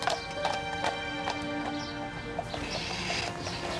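Horses' hooves clip-clop in a steady, close rhythm of repeated sharp knocks, with a brief whinny-like sound near the end and no talking.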